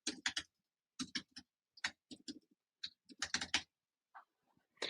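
Typing on a computer keyboard, heard close and clean: short bursts of crisp key clicks in irregular clusters, separated by brief silent pauses.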